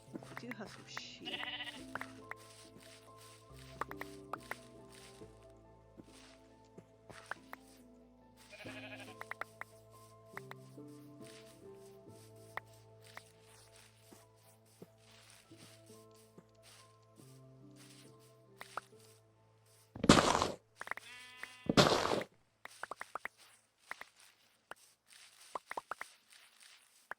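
Sheep bleat in a farming video game, a few short calls standing out loudly near the end over soft background music and footsteps, with a person talking in the clip.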